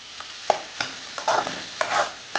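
Chopped onions sauté with spices in a pan for chana masala, with soft sizzling under a few distinct scrapes and knocks of a spoon stirring against the pan, close and uneven, no voices.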